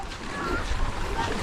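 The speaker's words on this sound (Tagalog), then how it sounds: "Malaki-laking bangka to." A large wooden outrigger boat out on open water, its low engine rumble blending with wind buffeting the microphone and the wash of waves, fairly close and steady.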